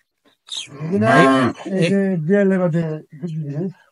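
Cattle moo at a cow farm with rows of tin sheds, several loud, close, drawn-out lowing calls in quick succession with brief pauses between them.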